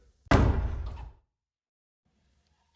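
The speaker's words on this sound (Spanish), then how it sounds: "hasta que escuché el sonido de una puerta cerrándose detrás de mí." A door closes behind someone, a sound effect in a horror story set in a school bathroom: one loud, close slam-thud that decays quickly into near silence.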